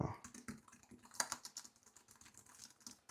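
Rapid clicking keystrokes on a new keyboard, likely an iPad keyboard case, tapped quickly and irregularly at close range in a quiet room.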